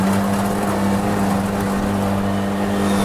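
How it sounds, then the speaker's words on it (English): Engines of an SUV and a Polaris RZR side-by-side roar loudly and steadily at close range as they accelerate hard in a drag race, a constant mechanical drone with no voices. "we couldn't end this without doing a drag race"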